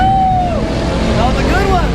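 A car spins out at a drag strip: a loud, close engine roar with wavering squeal-like tones, while spectators' voices carry over it.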